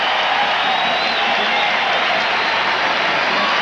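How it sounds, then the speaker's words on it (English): A big baseball stadium crowd at the 1987 MLB All-Star Game in Oakland roars in a dense, continuous wash of cheering and applause, steady and loud throughout. "Listen to the crowd."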